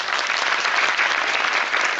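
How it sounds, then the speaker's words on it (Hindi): An audience at a speech event at Shaheed Smarak in Jabalpur bursts into loud, dense applause, a steady close wash of many hands clapping together. "मैं चाहूंगी उनके लिए जोरदार तालियां"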